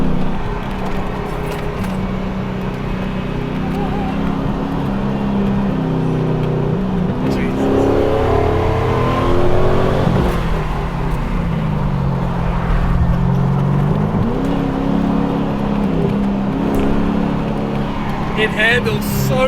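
LS V8-swapped Mazda RX-7 FD pulling hard under acceleration, a loud, steady engine drone with rising and falling pitch sweeps as it shifts, heard from inside the car over talk.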